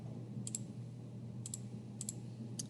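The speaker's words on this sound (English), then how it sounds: "we go to our calculator and we're going to, for y1, type in e to the negative x squared" Buttons on a TI-84 graphing calculator being pressed, giving about six faint, sharp plastic clicks, some in quick pairs, over a low steady room hum.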